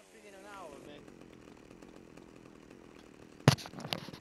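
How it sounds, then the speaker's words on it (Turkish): A chainsaw in the game Grand Theft Auto: Vice City – The Definitive Edition buzzes low and steady, then a loud harsh burst cuts in near the end, with a voice speaking early on. "İyice testereli katil moduna girdik."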